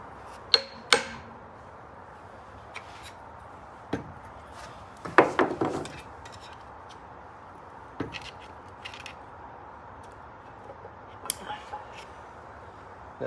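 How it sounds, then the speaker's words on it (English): Hammer striking a screwdriver wedged in a Case 580CK backhoe transmission to split its case, a few sharp metallic taps spaced out over a quiet workshop with brief rustling between blows. "Leave the screwdriver on this side and hammer the other way."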